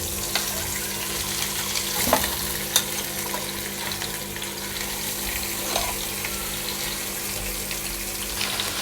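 Whole duck frying in a pan with ground spices and peppercorns, a steady loud sizzle and crackle of hot oil running throughout with a few sharp pops and no talking.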